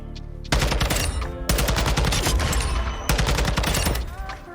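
TAC-56 rifle fire in Modern Warfare 2, loud sustained automatic bursts in three long strings with brief pauses between, dense rapid shots close and forceful, no talking.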